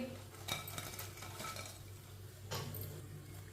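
Crispy aloo pakoras lifted from the frying pan and set onto a plate, with light clinks of a metal utensil against cookware and a faint sizzle of oil, two brief scraping bursts standing out from a low kitchen background.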